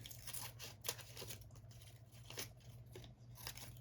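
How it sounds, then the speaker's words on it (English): Quick snipping and crinkling sounds of scissors cutting a cardboard Smarties box, several close cuts with short pauses, over a steady low hum in a quiet room. "I'm just going to use my scissors here."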